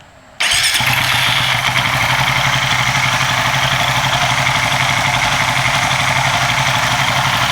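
A motorcycle engine cranks and fires after a brief near-silent pause, then settles into a steady, loud, continuous idle with even vibration, tested with an MSD, Speedspark or Nology ignition coil.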